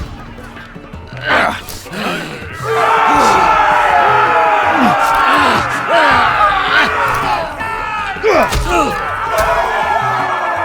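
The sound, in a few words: crowd cheering in an arena, from the Game of Thrones video game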